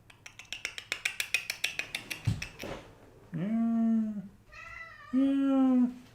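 A house cat gives two drawn-out, clear meows close by, following a quick run of light rhythmic rattling clicks.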